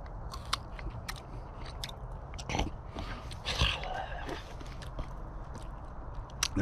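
Small tart crabapples freshly picked from a tree are bitten and chewed with crisp, crunchy snaps, close to the mouth, set against outdoor background noise.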